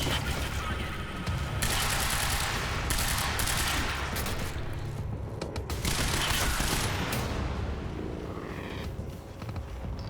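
Continuous heavy gunfire in the video game Quantum Break, a dense, loud barrage of overlapping shots and booms with no let-up across the whole stretch.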